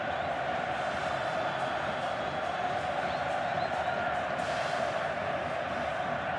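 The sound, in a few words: Grêmio fans cheering at Estádio Olímpico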